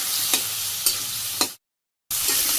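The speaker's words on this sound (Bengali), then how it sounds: "সুন্দর করে মূলাটা আমি কষিয়ে নিই" Radish with chilli and spices stir-fried in a pan in a village kitchen, a loud close sizzle punctuated by three spatula scrapes, cutting out briefly before the frying resumes.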